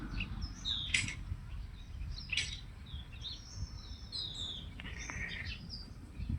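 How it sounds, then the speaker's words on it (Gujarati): Small birds chirp in a temple garden, a few bright calls and tweets rising faintly over a steady low rumbling background. "આમ જો ખાલી પક્ષીનો જ અવાજ આવે"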